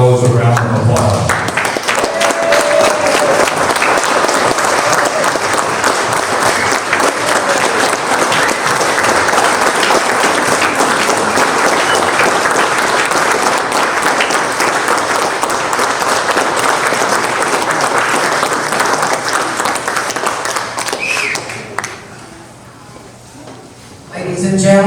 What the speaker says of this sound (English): would everybody stand and give our heroes a round of applause